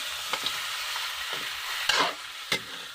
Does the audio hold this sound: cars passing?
no